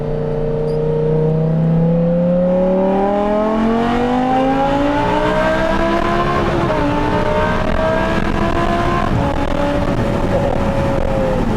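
Lamborghini Huracan with a 5.2 V10 and FMU-built exhaust revs loud and close, its pitch climbing in a sustained high-toned sweep, then easing and rising again with burbles and barks, no talking over it.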